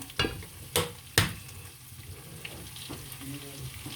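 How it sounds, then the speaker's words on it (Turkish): Soft butter sizzles and crackles in a hot pan at home, with a few sharp clanks of utensil against the pan early on over a steady frying hiss. "Şöyle birazcık tereyağı atıyorum."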